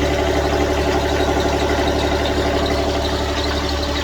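A small diesel lawn mower engine idles steadily outdoors, with a close, even low chugging and a continuous rattling hum and no change in pace, running alone without talk.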